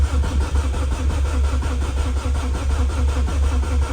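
A car engine on its first start-up attempt after an oil filter was pre-filled, the starter cranking in a steady rhythmic churn for several seconds, loud and close, with no catch into a clear idle.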